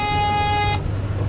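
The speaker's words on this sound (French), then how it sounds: "Comme un klaxon biton." A Simca 1000's two-tone car horn gives a loud, steady, brassy blast of about three-quarters of a second, then cuts off abruptly, leaving a low engine and road rumble.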